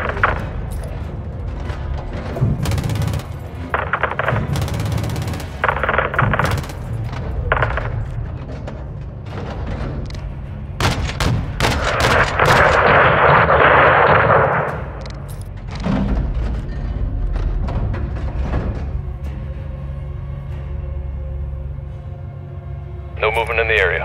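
Gunship rounds pounding a convoy in Call of Duty: Modern Warfare II, with repeated heavy booms and bursts over a low rumble, loudest in a sustained roar midway, while radio chatter runs beneath.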